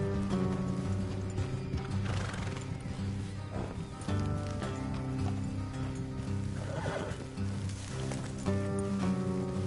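Horses in Red Dead Redemption 2 whinny and neigh while hooves clip-clop steadily, layered over a continuous musical soundtrack with no voices.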